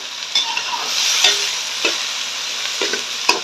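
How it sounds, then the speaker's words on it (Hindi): Green chillies fry with onions in a hot pan for a spicy bitter gourd curry, giving a steady close sizzle and hiss with occasional scraping stirs and no voices. "इनको भी प्याजों के साथ फ्राई कर लें।"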